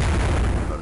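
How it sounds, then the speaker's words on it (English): A short, muffled boom from a bomb thrown by an enemy in Donkey Kong Country 3, a brief, dense blast with a voice talking over it. "they do throw bombs and you don't want to touch them or run into the explosion"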